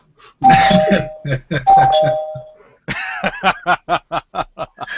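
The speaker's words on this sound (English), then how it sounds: "It's called the spoiler bell." A bright bell-like spoiler bell sound effect dings twice with a sustained tone, followed by a quick run of short rhythmic chimes, loud and close with no talking.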